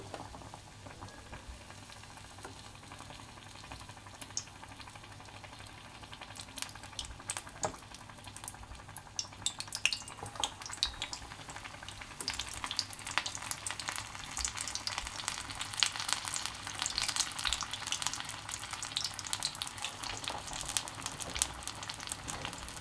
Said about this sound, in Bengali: একটা করে পনিরের স্লাইস নেব, বেসনে চুবিয়ে তেলে ছাড়বো।